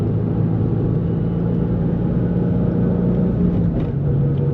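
Naturally aspirated V6 of a 2004 Nissan 350Z, a steady low rumbling drone heard from inside the car while driving, moderately loud and constant.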